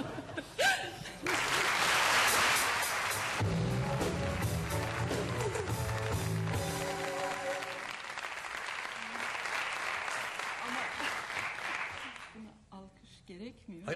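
A studio audience applauds on a Turkish television talk show, a broad wash of clapping that swells early and then continues beneath music and laughter before fading near the end.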